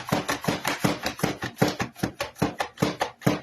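Knife chopping potatoes on a cutting board while preparing ham and potatoes au gratin, a steady run of close, crisp chops about four per second with no talk.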